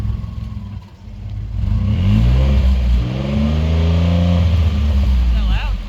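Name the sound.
Ford F150 V6 revving with new exhaust, outside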